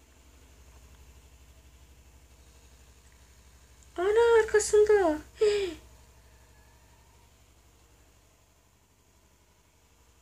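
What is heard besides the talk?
motorcycle engine sound from the video game Agent Alice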